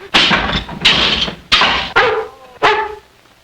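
A small dog barks five times in sharp, loud, close yaps, spaced unevenly, each bark trailing off with a brief whine, with no talk over it.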